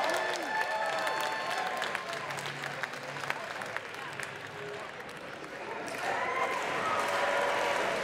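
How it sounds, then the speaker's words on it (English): Crowd applause and cheering at a live wrestling show, a dense, steady roar of clapping and voices from a large audience that swells again toward the end. "A thunderous applause for the former VCW champion."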